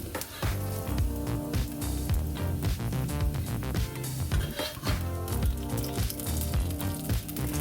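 Eggs frying in a ring in a pan, with a dense crackling sizzle heard close up under loud, busy background music that largely masks it.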